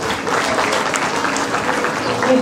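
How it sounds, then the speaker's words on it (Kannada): Applause at a kids' school annual day event for a punctuality award winner, a steady wash of clapping from the crowd, close and continuous. "ಜೋರಾಗಿ ಚಪ್ಪಾಳೆ ಬರಲಿ ಸ್ನೇಹಿತರೆ."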